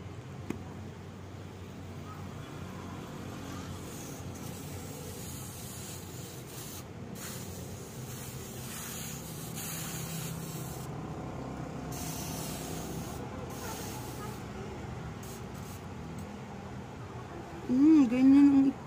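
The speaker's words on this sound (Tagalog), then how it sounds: "Spray ko lang daw siya sa may part ng may hair." Hair removal spray misted onto an underarm, a steady hiss running through the whole stretch at moderate level while someone talks over it.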